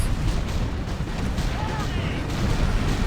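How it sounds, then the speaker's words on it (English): Sieged turrets in the strategy game Art of War 3 fire on infantry in a dense, continuous barrage of booming shots and blasts that stays loud throughout. "now I will open the turrets, siege them, and now they are firing at his infantry"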